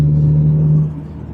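A Subaru WRX with a full bolt-on setup running E85 idles and rumbles as it drives through a neighborhood, a steady low engine drone with a strong hum that fades slightly near the end.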